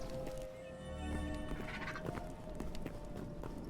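Horse sounds from the video game Hytale, a whinny with clip-clopping hooves over a steady ambient game soundscape, fairly loud throughout with no talk.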